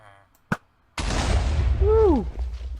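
A sharp crack is followed by a heavy booming explosion from the Minecraft video game, a deep rumble that lingers, with a short whooshing tone sweeping downward partway through.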